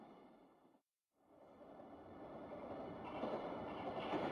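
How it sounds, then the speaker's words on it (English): Steady rumbling train ride in an RPG Maker horror game, a broad continuous rolling hiss that drops out briefly near the start, then returns and swells louder toward the end. "And so now, I'm swaying in this train, headed towards Asuka Village."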